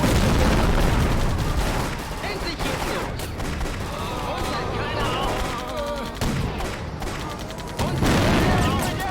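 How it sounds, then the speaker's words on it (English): Heavy artillery and gunfire in the World War II strategy game Blitzkrieg II: loud, dense bursts and booms crowd together almost without pause, with a voice talking over them. "They have heavy artillery firing right on top of us."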